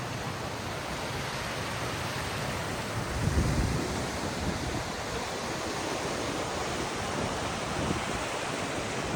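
Seawater from a desalination plant in Lakshadweep gushes out of two outlet pipes back into the sea, a steady, dense roar of pouring water with no voices over it.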